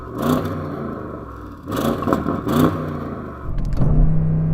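An Audi RS6 Performance engine revs during a stationary sound check, three loud, swelling blips in quick succession followed by a harsher roar that builds toward the end, close and clear with no talking.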